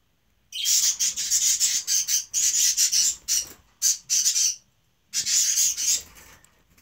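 Pet birds kept indoors give bursts of bright, raspy chirps and squawks in several clusters with short pauses between, fairly close and loud, with no talking over them.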